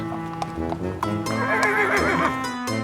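A person imitating a horse or mule, whinnying loudly and close up, the voiced neigh wavering and rising across its length, with a few clip-clop-like clicks at the start.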